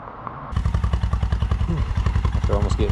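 A motorcycle ride heading home through the woods after rain, the engine kicking in suddenly and chugging with a fast, rhythmic pulse, loud and close throughout.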